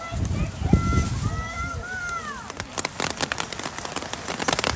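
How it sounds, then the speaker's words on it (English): Rain patters and crackles over a football game, its hiss spread across the clip, while a voice talks over it and a whistle-like gliding tone rises and falls near the start. "As the rain makes its triumphant return again."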